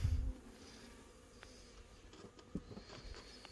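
Honey bees around a hive with a freshly released swarm queen buzz faintly and steadily at a distance, with a brief low thump at the start and a few soft knocks along the way; no talking.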